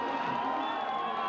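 A crowd at the finish line of a men's 15 km mass start biathlon race at the Winter Universiade in Almaty cheers and shouts in a brief, dense roar of many voices.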